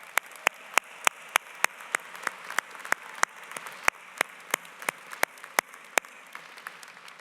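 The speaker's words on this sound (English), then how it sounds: "Let's give her a round of applause" Scattered clapping at a university convocation ceremony, a sparse audience of individual sharp claps at an uneven rhythm, fairly distant and lasting several seconds.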